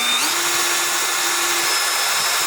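A power drill whirs steadily at close range while drilling a laptop hinge mount on an HP x360 14, its motor pitch rising briefly as it spins up, then holding a continuous high whine.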